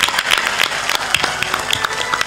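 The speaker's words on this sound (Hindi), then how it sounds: "जोर से ताली बजाओ।" Audience applause at a Hindu religious discourse during a Dhanteras gathering, dense steady clapping from many hands filling the space, fairly loud and continuous without a break.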